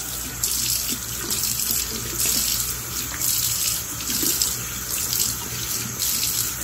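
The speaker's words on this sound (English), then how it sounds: "So that's just hitting it with water." Tap water runs steadily into a sink while rinsing body paint swatches, a continuous close rushing splash with slight swells in intensity.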